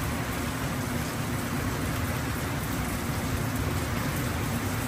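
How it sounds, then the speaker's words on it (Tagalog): Heavy typhoon rain pours down at a chicharon factory during landfall, a loud, steady, dense wash of noise that fills the whole clip without letup and with no speech. "Sobrang lakas ng ulan."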